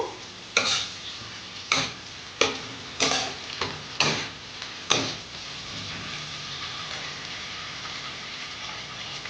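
Chicken being sautéed with ginger paste in a pan, heard as a series of sharp scraping stirs of a spoon against the pan at irregular intervals over a soft, steady sizzle.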